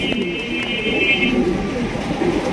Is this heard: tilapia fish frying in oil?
no